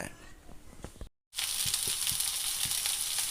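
Bitter gourd frying in oil in a pan, a loud continuous crackling sizzle that takes over after a brief silence, with some quieter stirring noise before it.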